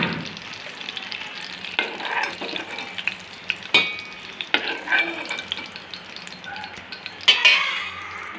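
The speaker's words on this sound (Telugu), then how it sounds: "పుదీనా కూడా కొంచెం సేపు వేయించుకోవాలి." Mint leaves and green chillies frying in a pan for tomato chutney, a soft continuous sizzle broken by clinks and scrapes of a spoon stirring against metal, close by with no talking.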